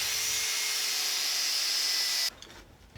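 A power tool whines loudly at high pitch for a couple of seconds while taking apart a small microwave-type motor for scrap, then cuts off abruptly into quieter handling noise.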